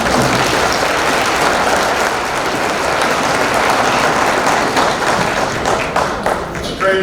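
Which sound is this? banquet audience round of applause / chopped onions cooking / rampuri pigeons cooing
banquet audience round of applause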